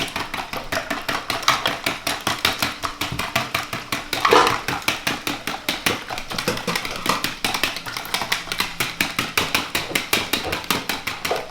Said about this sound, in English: just get a little whisk in